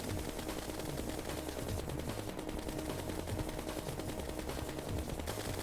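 Rapid automatic gunfire mixed with flash rounds in a video game boss fight against the King Slime, a dense continuous barrage of shots with no talking over it.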